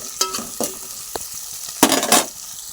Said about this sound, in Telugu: శనగపప్పు ఫ్రై చేయాలి.